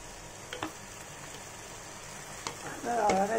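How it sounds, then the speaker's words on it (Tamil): Mint rice seasoning is tempered in a hot pan, with a low, continuous sizzle and a few clinks of a utensil, and a louder burst of frying near the end. "இப்போ வந்து நம்ம புதினா ரைஸை தாளிச்சிடலாம்"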